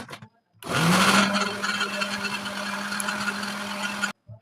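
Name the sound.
electric mixer beating luncheon meat mixture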